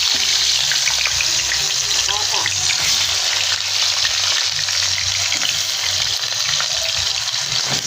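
Loud, continuous sizzle of sliced chicken pieces frying in hot oil for pininyahang manok, a dense crackling hiss with occasional spits throughout and low kitchen noise underneath.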